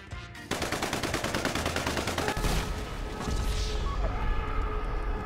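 Sustained automatic gunfire in the GTA video game, a fast, steady rattle of shots that runs loud and close almost throughout.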